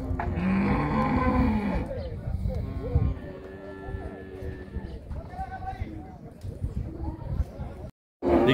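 Cattle moo repeatedly amid a noisy livestock yard at a cattle fair in Monte Alegre, Sergipe, Brazil, with people talking in Portuguese over the lowing and occasional hoof clatter.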